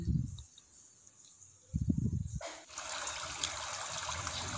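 Rice water is poured onto household plants, with short low splashes at first and then a steady, soft trickle and gush running on to the end, close by with no talking.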